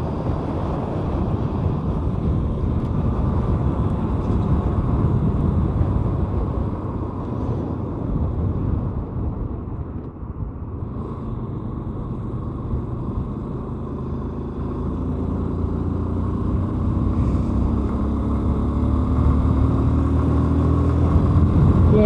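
Steady motorcycle engine drone and rushing wind from a rider making delivery rounds, loud and continuous throughout, with a rising engine note near the end.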